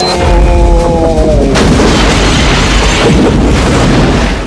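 A movie weapon fired at its highest setting lets out a single loud, deep boom that rolls into a sustained rumbling blast, with a fading tonal hum at the start and no talk over it.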